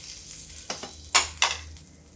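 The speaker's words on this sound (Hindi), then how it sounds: "ये देखिए जीरा तड़क रहा है" Cumin seeds crackle in hot oil in a quiet kitchen, with a few brief bursts of sizzling and spattering that rise and fade between quieter gaps.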